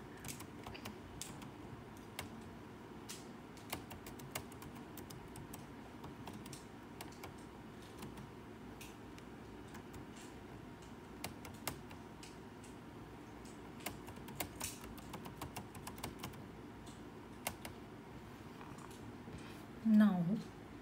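Computer keyboard keys tapped in short irregular bursts while cell contents are filled into a table, the light clicks fairly quiet under a steady low background hum.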